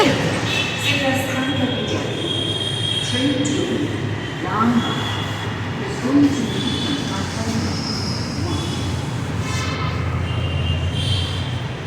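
A Pune metro train rumbles steadily with faint wheel squeals and hum, while people talk nearby throughout.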